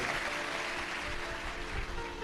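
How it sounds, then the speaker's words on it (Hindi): A crowd at a Shiv Mahapuran religious gathering applauds for the saints, a dense, steady wash of clapping that holds at an even level throughout. "एक बार जोरदार ताली बजाकर संतों के लिए।"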